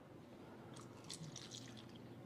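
Kangen water poured over a tea bag, a quiet, close trickle with soft dripping and splashing that swells midway and then tapers off, with no voices.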